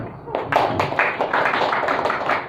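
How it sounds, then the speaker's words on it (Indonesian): An audience at a political campaign gathering in Sabah breaks into clapping, a dense burst of hand claps that starts abruptly and holds steady for a couple of seconds, fairly close. "Boleh tepuk tangan."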